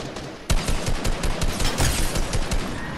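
Rapid gunfire in Fortnite, a burst of sharp repeated shots starting abruptly and continuing in a fast, uneven rhythm, fairly close and alone without talk.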